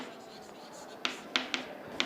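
Marker or chalk on a classroom board during a programming lecture: a few short, sharp scratchy strokes in the second half, close and clear against a quiet room background.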